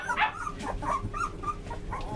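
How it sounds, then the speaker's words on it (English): Three-week-old Sheepadoodle puppies whimper, yip and bark in a string of short, high, close cries, several overlapping in quick succession. "there's our little puppies running around."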